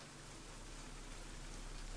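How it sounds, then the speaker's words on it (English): Steady rain falls in the video game Cemetery Mary, a dense, even hiss of drops on surfaces that holds constant without any other sound. "So I woke up to the sound of rain."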